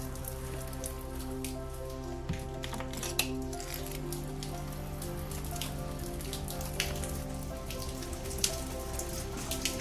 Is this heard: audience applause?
no